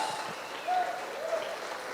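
A church congregation at a conference applauds, a brief, steady patter of clapping from many hands filling the room at moderate volume.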